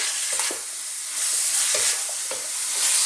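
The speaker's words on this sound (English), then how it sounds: "Now I'm going to stir fry this once again on this high heat" Pork and broccoli sizzle hard in a wok over high heat, a steady frying hiss broken by repeated scraping stirs and tossing clatters, close and loud with no voices.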